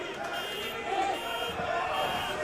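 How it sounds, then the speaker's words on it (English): A buzzing alarm sounds at a Bar Wrestling match in Baldwin Park during a bout between Peter Avalon and Pinkie Sanchez. It holds as a steady tone under continuous commentary, with a brief sharp accent at the very end. "The alarms are going off"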